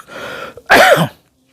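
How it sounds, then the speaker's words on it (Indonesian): A single person's cough, one loud, harsh burst with a rough throat-clearing quality, preceded by quieter breathy noise and followed by silence. "saya batuk-batuk aja saya masukin, biarin aja batuk-batuk saya itu"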